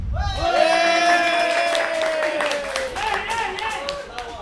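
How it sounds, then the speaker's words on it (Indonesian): Audience at a stand-up comedy competition claps and cheers in a steady, dense wash for several seconds, with voices and whoops mixed into the crowd noise. "Tepuk tangan dulu dong."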